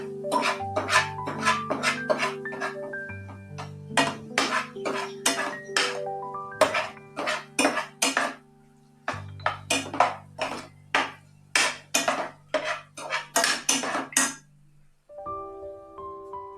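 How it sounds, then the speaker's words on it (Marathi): Spoon clinking repeatedly against a metal pan while Maggi masala is mixed, a busy run of sharp metallic taps and scrapes with brief pauses, close and fairly loud. "आता आपण याला चांगलं मिक्स करून घेऊया."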